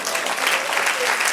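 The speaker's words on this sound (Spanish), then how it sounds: "Denle un aplauso al Señor." A church congregation breaks into applause during a sermon, a brief burst of dense, loud clapping from many people, with faint voices mixed under it.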